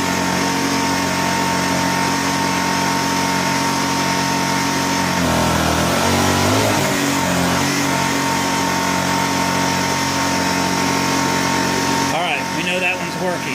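A small Honda EU1000i inverter generator runs steadily while powering a heater beyond its capacity, a continuous close engine hum with a brief shift in pitch midway and a rougher change near the end, with people talking over it.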